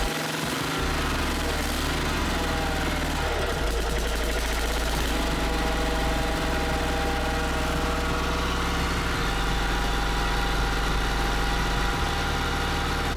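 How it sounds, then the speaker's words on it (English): A Kawasaki 651V engine idles on a Snapper Pro SW30 52-inch mower, a steady low thrum that holds an even rhythm throughout, close and continuous with no talk over it. "warm up the engine."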